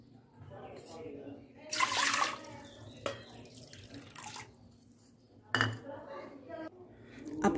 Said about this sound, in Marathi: 10 वाट्या पाणी घेऊया याच्यामध्ये।